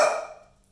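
A single sharp dog bark, loud and close, trailing off quickly into silence.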